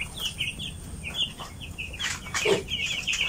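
Young chickens in a 45-day meat flock cluck and peep in a crowded pen, soft repeated calls at close range with a low background rustle and a slightly louder burst near the end.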